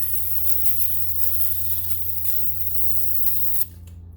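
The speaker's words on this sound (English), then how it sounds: "take your brake cleaner," A loud, sustained aerosol spray of brake cleaner hisses close by onto a rusty front brake rotor of a 1997-2004 Buick Regal for several seconds, then cuts off abruptly.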